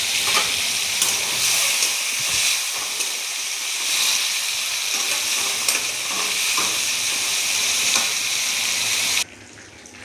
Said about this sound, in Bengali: এবার আমি চিংড়ি মাছগুলো ভেজে নেব।